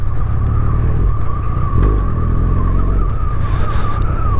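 A Yamaha FJR1300 motorcycle climbs the Mount Evans road, its engine droning steadily and close under rushing wind.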